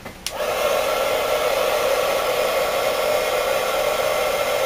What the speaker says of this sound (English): I just heat my heat gun up off to the side, so that it's good and hot before I put it over my clay.